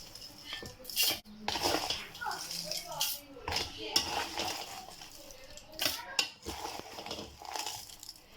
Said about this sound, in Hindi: अब हम ये देखिए ब्लेंडर में डाल लेते हैं